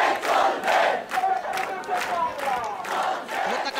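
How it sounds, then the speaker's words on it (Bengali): A crowd of students and parents chants protest slogans in rhythmic, repeated bursts, voices loud and massed together at a street demonstration. "অভিভাবকরা তাদের সন্তানদের নিয়ে এসেছেন সেই 9 দফা দাবি বাস্তবায়নের পক্ষে যে স্লোগান সেই স্লোগান তারা দিচ্ছেন।"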